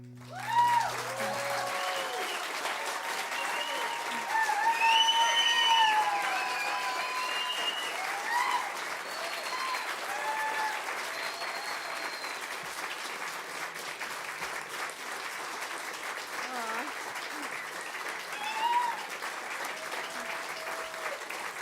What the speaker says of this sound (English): Okay, you're standing and clapping.